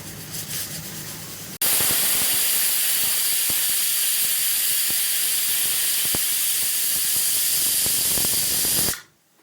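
A pressure cooker whistle: a loud, steady rush of hissing steam blasts for several seconds, then cuts off abruptly.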